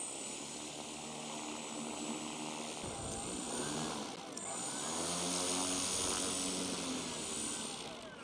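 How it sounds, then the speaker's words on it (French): Electric motor of a 2.35 m RC model DR400 airplane running steadily at close range, with a continuous whine and propeller buzz that swells slightly in pitch partway through. "une belle maquette de DR400. C'est électrique."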